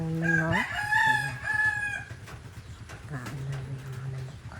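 A rooster crows loudly and close by in a rainy rural province, its long drawn-out call followed by clucking chickens and a second, lower crow.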